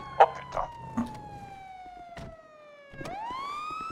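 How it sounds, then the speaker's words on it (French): A police car siren in the video game GTA wails close and loud, its pitch sweeping down slowly then jumping back up, with a few short knocks and clicks at the start. "je vais couper cette sirène de mort déjà"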